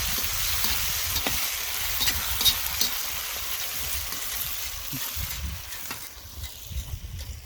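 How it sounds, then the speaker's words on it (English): Dinner cooking outdoors in a new pot in a home garden, with a steady sizzle and frying hiss and occasional soft stirring clinks, fairly close and with no talking. "Well, at least we're cooking it outside."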